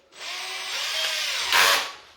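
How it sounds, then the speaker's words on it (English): A power drill fitted with a 3mm timber bit bores a pilot hole into a wooden floorboard, a steady close whine for about two seconds that rises briefly and harshens as the bit bites, then winds down. "what I've got here is a 3mm drill bit for timber"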